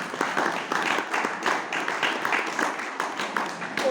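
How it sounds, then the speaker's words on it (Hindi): A hostel event crowd claps to welcome a university professor and hostel warden, moderately loud, steady applause with rhythmic bursts throughout. "एक बार जोरदार तालियों से स्वागत करें।"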